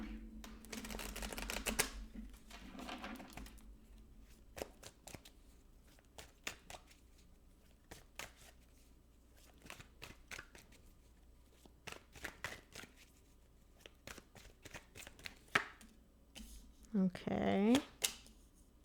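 Tarot cards shuffled by hand for a reading, a dense riffling burst early on followed by scattered soft taps and card flicks, with brief speech and a short voice near the end.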